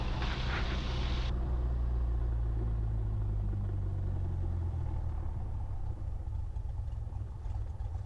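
A light aircraft engine idles at 1000 RPM on the ground, a steady low rumble droning evenly throughout, with a brief burst of higher noise at the very start.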